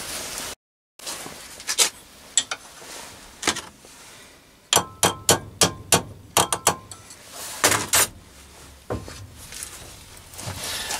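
Sharp metallic clicks and taps as a brass bracket is clamped in a vise and bent to a right angle, coming in irregular clusters of close, crisp knocks against a low background hum.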